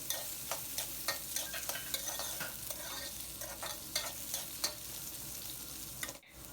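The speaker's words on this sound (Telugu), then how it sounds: "ఇప్పుడు ఇందులో మిగిలిన ఆయిల్లోనే మనం ముందుగా కట్ చేసుకున్న ఈ ముల్లంగి ముక్కల్ని కూడా వేసేసి" Radish pieces fry in leftover oil, with a continuous sizzle and regular spatula scrapes against the pan in a steady rhythm, close and fairly loud, with no talking.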